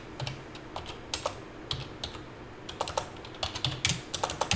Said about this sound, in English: Jeez, if I could type today.